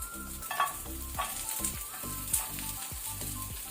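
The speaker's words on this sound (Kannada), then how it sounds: "ಇದನ್ನೀಗ ನಾವು ಮೀಡಿಯಂ ಫ್ಲೇಮ್ ಅಲ್ಲಿ ಸ್ವಲ್ಪ ಕಲರ್ ಚೇಂಜ್ ಆಗೋ ತನಕ ಫ್ರೈ ಮಾಡ್ಕೊಳ್ಳುವ" Chopped onion and garlic frying in oil in a pan over a medium flame, a steady close sizzle with soft stirring scrapes and occasional spatula knocks, no voices.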